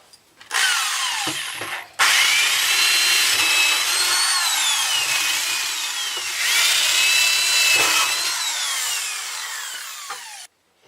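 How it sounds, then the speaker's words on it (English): A power drill with a 1/4 inch bit whines loudly in two long bursts, the bit grinding through wood for a carriage bolt hole, with shifting pitch, separated by a brief pause. "swap out that paddle bit with this 1/4 inch drill bit to accommodate the carriage bolt"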